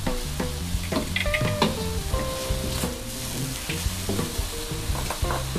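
Seasoning for potato croquettes, with ground nutmeg, stock powder, salt and sugar, being stirred and fried in a pan, giving a steady close sizzle under repeated scraping strokes of the spoon, with no voices.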